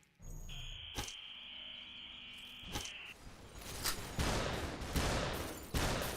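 Gunshots in the game SUPERHOT: a handful of sharp, separate cracks spaced apart, with a sustained electronic tone in the first half, then several heavier, noisier shots in the latter part.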